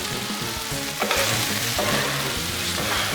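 Chicken, sausage, peppers, onions and celery sizzle loudly on a Blackstone griddle, a dense continuous frying crackle with occasional clanks of a spatula.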